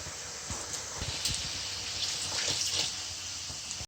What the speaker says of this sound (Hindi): चौथाई कप पानी डालते हैं।